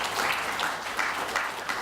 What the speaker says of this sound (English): I would really take a moment to give them a round of applause.